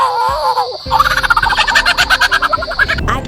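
A bird gives a loud, close call: a falling whistle, then a rapid pulsing burst of zapping notes much like a toy laser gun.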